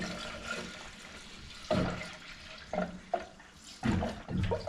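Coolant glugs and splashes in uneven bursts as it is poured into the radiator of an LS turbo engine, close and alone.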